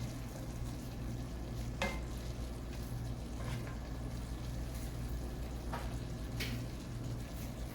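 Cauliflower stir fry with low sodium soy sauce is mixed in a hot pan, a steady sizzle with a few sharp scrapes and clinks of the utensil against the pan, close and continuous.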